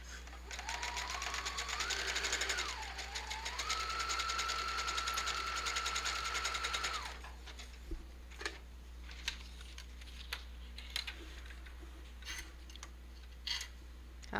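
A sewing machine stitches pockets for a junk journal, a steady loud whir with rising and falling pitch for about seven seconds, then stops, leaving faint clicks and handling taps.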